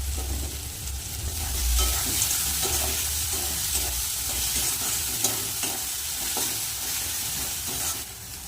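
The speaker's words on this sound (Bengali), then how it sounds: "এবার ভেজে রাখা শুটকি মাছগুলো দিয়ে দেবো" Dried fish (shutki) fries in spiced oil and is stirred in the pan, giving a steady close sizzle broken by scraping strokes of the spoon, with no talking.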